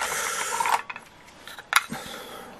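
A single shot adaptor is worked into a Tikka T3 rifle magazine, a raspy plastic rubbing and sliding followed by a few sharp clicks and knocks, close and without talk.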